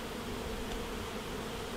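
Honeybees buzzing faintly during a varroa mite alcohol wash with 70% alcohol, a steady soft hum, quiet and continuous with no talking.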